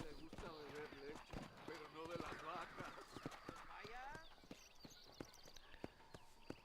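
Horse hooves clip-clop steadily while riding in Red Dead Redemption, a close rhythmic patter of footfalls with an occasional whinny, running under a voice talking throughout.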